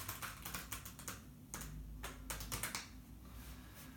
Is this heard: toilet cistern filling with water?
no